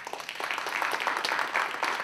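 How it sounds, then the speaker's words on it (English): Audience applause for a guest speaker at a book talk, a steady dense patter of many hands clapping at moderate distance, sustained evenly for the whole stretch with no voices over it. "please give a hearty round of applause to our guest"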